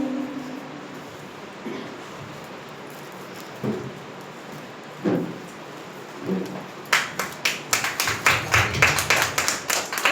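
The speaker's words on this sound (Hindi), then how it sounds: "सबके लिए सबको ताली बजाएंगे तब ना अच्छा लगेगा" Audience applause at a journalists' award ceremony run by a foundation: a few faint isolated claps early on, then a burst of many quick, sharp hand claps building in the last few seconds.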